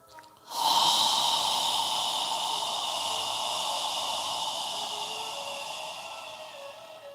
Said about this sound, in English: as you exhale, imagine you're fogging a mirror with your breath